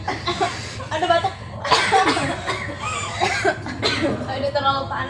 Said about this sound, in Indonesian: Ada batuk.